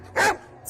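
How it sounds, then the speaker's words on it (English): A golden retriever lets out a single sharp, loud bark, close by, with a quiet background before and after. "He just barks"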